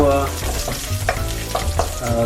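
Garlic and ginger sauté in a hot pan while cooking sweet and sour salmon, a loud steady sizzle with occasional stirring scrapes, close and without talk.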